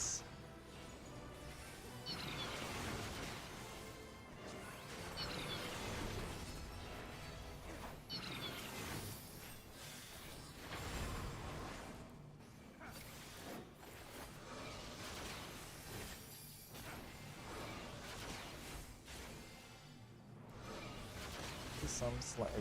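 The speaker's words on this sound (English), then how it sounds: "Some slight explosions." Crashing explosions and whooshing impacts from a chaotic alliance raid in an online game, layered over dense, continuous game music and effects at a steady, loud level throughout.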